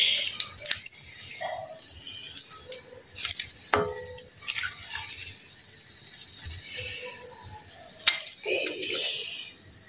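Eggplant fritters (beguni) frying in oil, a soft, steady sizzle with scattered clinks and stirring scrapes, moderately close, plus a couple of sharp utensil taps; a voice is faintly present.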